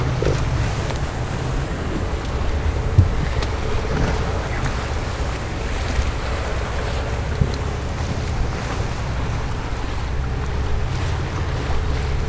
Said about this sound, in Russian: Заходим на моторе.